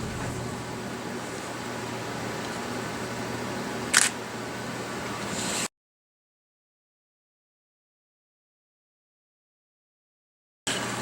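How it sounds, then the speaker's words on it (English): A single camera shutter clicks once with a short, sharp mechanical snap over a low hum of room noise, followed by a stretch of total silence. "I'm going to take the exact same picture this time"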